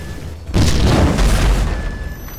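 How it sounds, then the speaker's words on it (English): A deep, heavy boom from an explosion in GTA V erupts and rumbles on for a couple of seconds, loud and close, over a background hum. "That explosion must have knocked me out"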